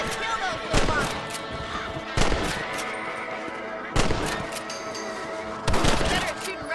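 Rifle shots in the video game Red Dead Redemption: four sharp, loud reports spaced a second or two apart, each ringing out over a steady bed of outdoor game ambience.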